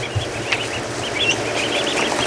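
Several short bird calls from ducks kept in a barn enclosure sound close by and stand out over steady background noise, with a few louder squawks among softer ones and no talking.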